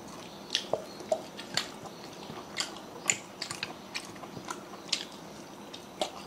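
Close, quiet crunching bites and soft chewing as raw onion is eaten alongside a meal of mutton, fried fish and luchi, with crisp snaps scattered irregularly over a low background.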